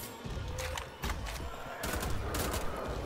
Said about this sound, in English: it's time to start using guns